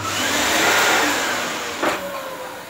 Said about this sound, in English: Let's just vacuum that up, shall we?